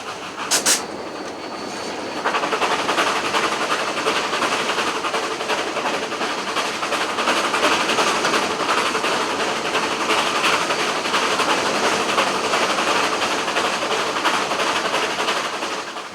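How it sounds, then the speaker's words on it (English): A passenger train rolls along the rails with a continuous loud rumble and rhythmic clickety-clack of the wheels, heard from inside the car; a brief sharp click comes at the start before the steady running noise swells in and holds. "The clicking of the wheels on the rail, the gentle pitching of the cars had a hypnotic effect"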